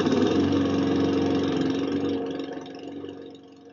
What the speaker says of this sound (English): Lawnmowers!